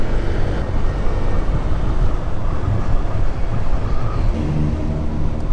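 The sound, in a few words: strong wind blowing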